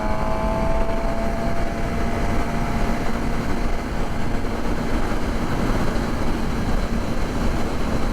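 A 2022 Suzuki GSX-R 750 motorcycle being ridden at speed, a steady, loud, continuous engine drone blended with road and wind rush, constant with no breaks.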